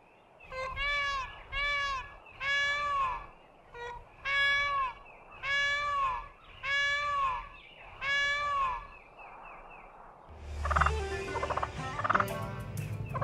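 Wild turkeys in Missouri gobble in a rapid series of loud, rattling calls, one after another, followed by a burst of scuffling and squawking as they clash.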